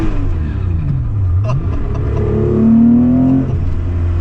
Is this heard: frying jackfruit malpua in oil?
no